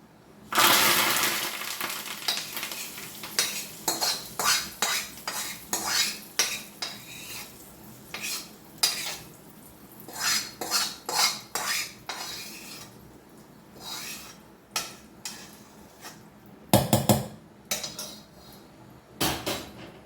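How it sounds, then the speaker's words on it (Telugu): Tempering is mixed into a brinjal chutney in a bowl with a spoon, making repeated close clinks and scrapes in irregular bursts over a faint background hiss. "మనం ఈ పచ్చల్లో తాలింపు వేసేసుకుందాము"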